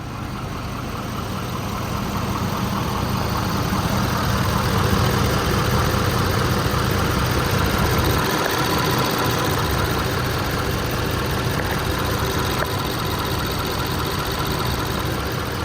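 A 2016 Ford F550 diesel truck engine idles steadily with a constant low rumble and mechanical clatter, close by, with no talking.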